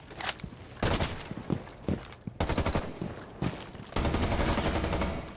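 Finka's weapon in Rainbow Six Siege fires several sustained automatic bursts separated by short pauses, loud and close, with light movement sounds between them.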